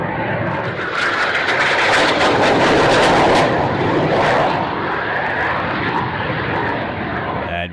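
A solo aerobatic jet flies its crazy flight at an air show, a loud, sustained roaring jet engine sweeping overhead with rumbling bursts, swelling and then slowly fading.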